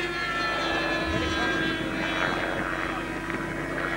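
A cheap foam model jet powered by twin Pico 45 ducted fan units with Thor jet units whines loudly overhead at a jet rally, giving a steady high-pitched rushing drone with faint voices underneath.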